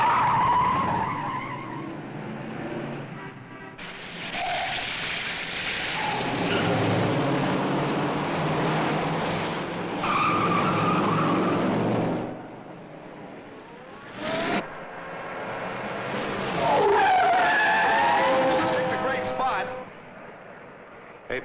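Cars in a 1958 street race roar and skid with loud, repeated tire squeals and engine surges across the stretch, while people talk over the noise.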